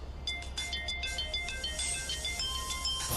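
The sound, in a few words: mobile phone ringing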